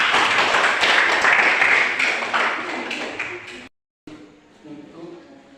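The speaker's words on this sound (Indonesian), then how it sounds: "tepuk tangan" A classroom group claps together in a short burst of dense, loud hand claps that fades out after a few seconds, followed by a gap and then faint voices.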